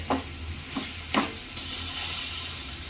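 Hard lumps of jaggery stirred in a pan until they melt, with a few distinct scraping strokes over a soft continuous sizzle and hiss, close and fairly quiet.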